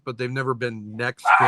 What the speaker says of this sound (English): sorry, that is my dog.